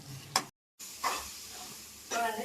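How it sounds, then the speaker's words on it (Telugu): Masala spices frying in a pan with a splash of water for a fish roe curry: bursts of sizzling and stirring with a brief silent gap, mixed with a voice talking. "ఇలా మసాలాన్ని వేగేసుకోవచ్చు వేగేంత వరకు ఇలా రెండు నిమిషాలు మాత్రం ఇవ్వాలి"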